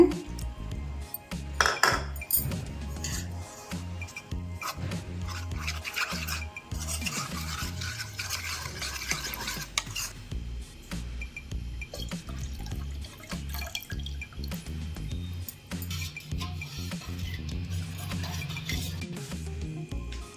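A spoon stirs custard powder into boiled, cooled milk, making close, rapid scraping and clinking strokes against the bowl in a steady repeated rhythm, with liquid sloshing throughout and no talking.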